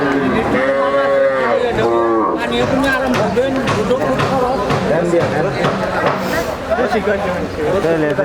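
A native-breed cow with her calf lows in long, deep moos near the listener while several people talk loudly close by.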